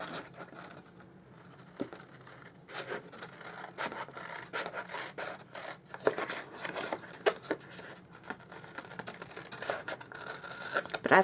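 Scissors cutting a long strip of paper for a stamped gift bag, crafting at a table, with soft rasping snips and rustles scattered through the clip amid light handling noise.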